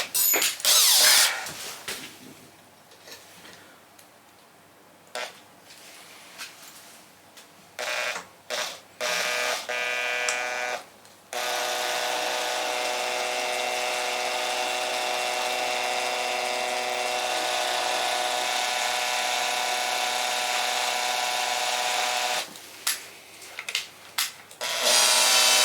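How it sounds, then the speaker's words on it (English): An electric drill in use while assembling the electric box of a Suzuki GN250 motorcycle, with short bursts, pauses and then a long steady whirring run before it stops and restarts briefly. "Do I have to go with the drill?"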